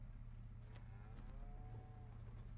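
Cattle in the Farming Simulator 22 video game on the Erlengrat farm, one low drawn-out moo rising and falling over a steady low engine-like hum, fairly quiet with no talk.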